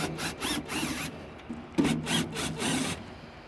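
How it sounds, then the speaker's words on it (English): Two screws are backed out of the top of a Camp Chef Woodwind Pro pellet grill controller, heard as two close clusters of short rhythmic rasping turns separated by a brief pause, with no talking. "we are now going to unscrew the two screws on the top of the controller"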